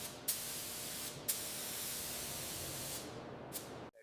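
A spray gun hisses steadily as it lays paint on panels of a 1979 Loomis armored truck, a close, even rush of spray broken by a few sharp trigger clicks and a brief cutoff near the end.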